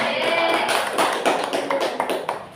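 Scattered applause in a classroom during a group quiz about sacrificial animals, brief handclaps close by, irregular and fading over a couple of seconds.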